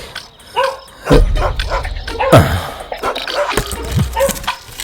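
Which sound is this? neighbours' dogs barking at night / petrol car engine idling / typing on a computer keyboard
neighbours' dogs barking at night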